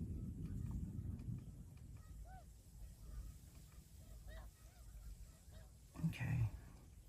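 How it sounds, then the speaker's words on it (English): Snow geese at Forsythe honk in scattered, distant calls across open wetland, a soft chorus under wind noise with a louder burst of calls near the end. "These snow geese."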